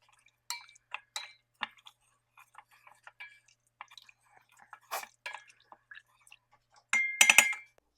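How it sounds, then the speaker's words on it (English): Rice and bouillon mix being stirred in a rice cooker, with scattered soft wet clicks and scrapes of a utensil, close and fairly quiet, ending in a brief louder scraping burst. "And you want to stir this all nice and evenly. Unclump the rice."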